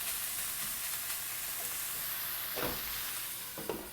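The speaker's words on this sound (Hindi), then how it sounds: "तकरीबन 5 मिनट तक इसको कुक होने देंगे ऊपर से कवर करके।" Chicken mince sizzling in a pan, a soft continuous frying hiss at moderate level, with a couple of brief scraping or stirring sounds near the end.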